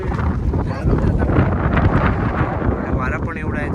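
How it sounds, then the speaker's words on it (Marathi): Strong wind on a Konkan hilltop roars steadily and loudly against the microphone, a dense, continuous buffeting rush with no pauses. "वारा पण एवढा आहे जबरदस्त"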